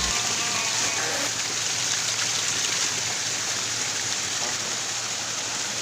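Steady, close rush of mountain spring water, a continuous gurgling flow with no pauses, pouring nearby.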